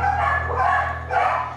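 A dog barks inside an animal shelter, several loud, close barks and yelps in a steady run with kennel noise behind and no talking.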